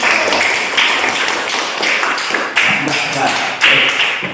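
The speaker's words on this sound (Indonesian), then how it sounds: "Tepuk tangan dulu untuk teman-teman sekalian" Students in a classroom give a round of applause for their classmates: a dense, steady patter of many hands clapping at close range, with some voices mixed in.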